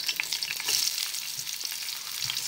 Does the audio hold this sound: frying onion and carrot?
yes